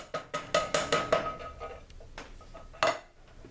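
A spoon knocks and scrapes around a metal pot as butter beans are stirred into Jamaican-style oxtails, a quick series of clanks followed by a few scattered taps.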